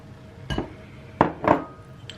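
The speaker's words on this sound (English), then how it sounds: "just throw all of your ingredients into one bowl" Ingredients for cinnamon roll fat bombs dropped into a single mixing bowl, three distinct clunks and clinks against the dish, close and moderately loud with quiet gaps between.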